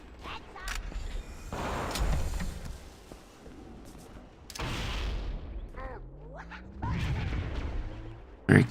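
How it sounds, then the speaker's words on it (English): Grenade thrown in a combat video game, followed by heavy booming explosions and gunfire bursts with mechanical clatter, loud and close, with someone talking over parts of it. "Very cute little grenade throw."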